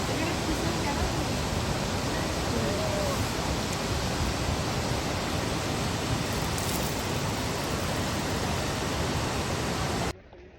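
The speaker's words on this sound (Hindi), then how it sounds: "हाँ तो आपको भी हमने दिखाया वाटरफॉल का यहाँ का व्यू।" Waterfall near Baneshwar temple roaring steadily as a dense, close, loud rush of falling water that fills the scene without pause and cuts off abruptly at the end.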